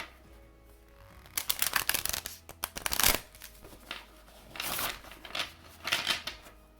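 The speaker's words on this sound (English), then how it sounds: "Go ahead and try out some rifle shuffling here." Several bursts of tarot cards being riffle shuffled, crisp rapid fluttering clicks in distinct passes separated by brief pauses, close up with no talking.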